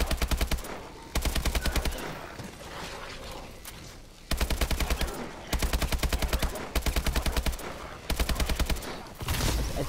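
Bursts of automatic AK rifle fire in Advanced Warfare Zombies, loud and rapid, arriving in repeated volleys separated by brief pauses with game ambience between them.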